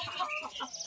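A hen of a native village breed clucks in short, soft bursts inside the coop as eggs are taken from beneath her. The clucking is close and steady through the brief moment, with no talk.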